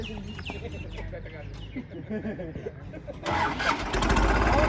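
A farm tractor rigged with a heavy 25-tine cultivator cranks and fires up, its engine catching and settling into a loud, close rumble, with voices and birds audible beforehand.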